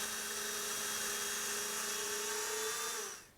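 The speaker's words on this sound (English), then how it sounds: "Then reset and drill the other workpiece." A Triton doweling joiner drilling into wood whirs at a steady high pitch, a continuous motor drone that holds evenly before spinning down at the end.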